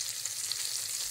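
Asparagus rolled in bacon fries in a pan with a constant, even sizzle that crackles softly from start to finish without a break.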